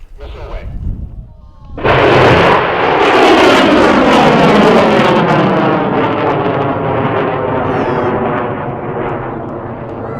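A test rocket lifts off at Spaceport, opening with a short burst of people talking before a sudden loud, sustained roar of the rocket motor that holds steady and then slowly fades as it climbs away.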